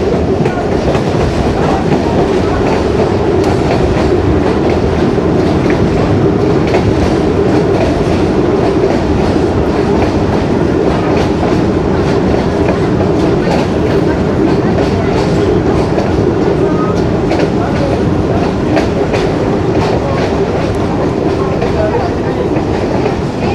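A Kohat Express passenger train in Pakistan, running from Rawalpindi to Kohat, rolls along the rails with a loud, steady rumble and a continuous clickety-clack of wheels that lasts throughout.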